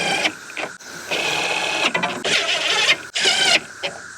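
A power driver whirs in short bursts while snugging down small bolts on a low setting, several separate runs of a few seconds each with brief gaps, close and fairly loud, no talking.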